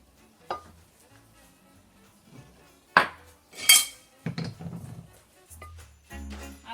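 A spatula blends onions and spices into turkey mince in a bowl, giving sparse, close clinks and scrapes against the dish, with a few louder knocks and short squelching mixes.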